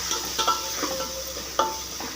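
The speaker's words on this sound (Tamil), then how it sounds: "இப்போ கருவேப்பிலை பொரிஞ்சிருச்சா மிளகு ஜீரகம் வரமிளகா 2" Curry leaves, black pepper, cumin and dried red chillies frying in hot oil for a thuthuvalai leaf rasam, a close continuous sizzle with scattered crackles and pops, no voices.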